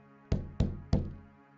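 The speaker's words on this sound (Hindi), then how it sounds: "मैं अंधेरे में उसे टटोल ही रही थी कि दरवाजे पर दस्तक हुई।" Three firm knocks on a wooden door, evenly spaced and close, each a solid thud with a short ringing decay, in an otherwise quiet room.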